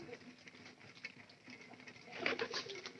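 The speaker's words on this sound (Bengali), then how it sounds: "ওই যে আমার অতিথি কবুতরটা" A rescued guest pigeon recovering at a house coos softly in a quiet room, low murmuring calls growing slightly fuller near the end, with light patter and rustling around it.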